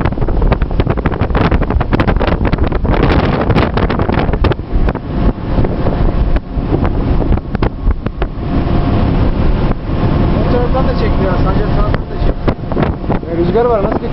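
Strong stormy wind with rain buffets the microphone with heavy, continuous rumbling gusts, while voices talk underneath.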